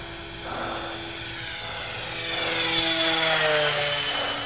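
A Nitroplanes 800mm Corsair RC model plane flies overhead, its electric motor and propeller giving a steady whining buzz that slowly swells louder as it passes closer.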